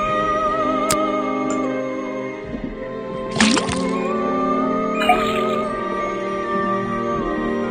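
In the video game Detective Grimoire, a faucet drips liquid into a cauldron: a few brief wet plips and a splashy burst over steady background music.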